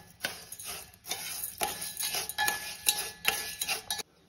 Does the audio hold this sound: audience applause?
no